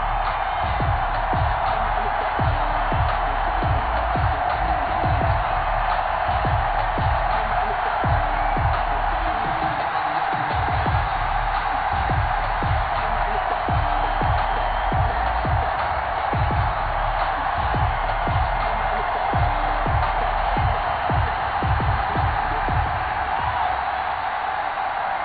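Sold-out stadium crowd at Heinz Field for a Steelers versus Packers game in Madden NFL 21, a steady dense roar with rhythmic stomping or clapping pulses running throughout at constant loudness.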